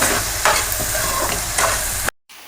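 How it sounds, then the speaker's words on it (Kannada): Cabbage frying in a hot pan for egg fried rice gives a loud, close sizzle with a few stirring strokes. The sound cuts off abruptly near the end, leaving brief silence. "ಈಗ ಎಲೆಕೋಸು ಹಾಕೋತಾ ಇದ್ದೀನಿ. ಇದು ಫ್ರೈ ಆಗಬೇಕು ಒಂಚೂರು."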